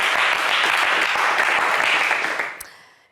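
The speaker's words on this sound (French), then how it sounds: "Allez, des applaudissements pour Yaya." Studio audience applause for a contestant on a French TV game show, a loud sustained burst of clapping that fades out near the end.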